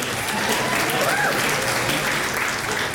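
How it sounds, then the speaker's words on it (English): Audience applause at the ASCAP Awards ceremony, a steady wash of clapping from a large hall that holds even and moderately loud for the whole stretch. "Give it up for Griffey's new suit."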